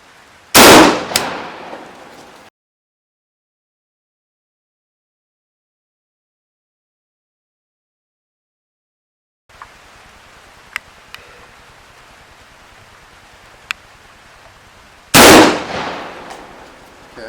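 A rifle fires 7N6 5.45x39 rounds into ballistic gel at about 10 yards: two loud, sharp, close shots roughly fifteen seconds apart, each with a short ringing tail, separated by a stretch of near silence.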